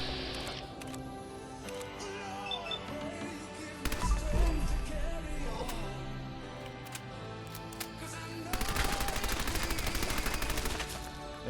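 Submachine gun fire in the video game Fallout 4: scattered single shots and clatter build into a dense, loud automatic burst near the end, with no talk.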